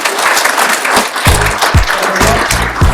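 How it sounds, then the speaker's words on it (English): An audience at a technical training session on Oracle SQL tuning claps for a presenter: loud, close, scattered applause with irregular individual claps and some low thumps under it. "Round of applause for Jordan."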